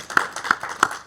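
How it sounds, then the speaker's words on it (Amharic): Rhythmic audience clapping at a celebration of St. Michael's monastery in Ethiopia, three crisp, evenly spaced clap bursts close by, with no talk over them. "አጨብጭቡ"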